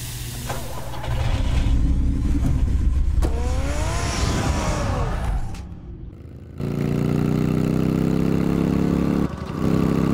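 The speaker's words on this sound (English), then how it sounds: "Get the car ready, Alfred." Batman's car engine in the video game Batman: The Telltale Series rumbles steadily, swelling as it revs, briefly dropping away, then returning to a constant loud drone.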